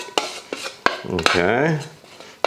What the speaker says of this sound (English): Keep stirring, don't forget that.